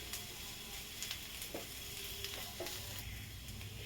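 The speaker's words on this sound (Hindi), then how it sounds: "इसे भी मैं 1 मिनट अच्छी तरह भून लेती हूँ।" Gram flour roasting with spinach and corn in a pan, a faint steady sizzle with scattered light spoon taps and scrapes, close but quiet and without speech.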